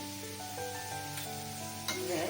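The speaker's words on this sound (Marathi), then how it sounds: "परतून घेऊया आपण परत यामध्ये चिंचेचा कोळ टाकायचा आहे" Elephant foot yam curry with turmeric, red chilli powder and cumin powder sautés in a pan, a soft continuous sizzle over a steady tonal background, with a brief scrape near the end.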